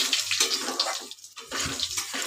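Whole spices, bay leaf, cloves, cardamom and cinnamon, sizzle in hot oil in a pan as they are stirred, a loud, continuous frying hiss with a brief dip in the middle and no talking.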